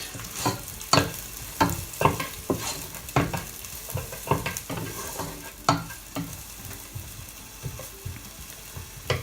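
Fish, onions and tomatoes for a salmon tomato masala sauté in a pan, a spatula striking and scraping repeatedly over a low sizzle, close, rhythmic and busy, with no speech.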